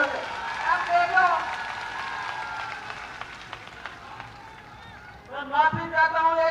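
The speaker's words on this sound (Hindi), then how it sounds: "जोर की ताली बजा, जोरदार स्वागत करें, जोरदार तालियों से" A crowd at a public camp event in a village claps loudly, a burst of applause mixed with voices and a speaker over a loudspeaker, fading mid-clip and swelling again near the end.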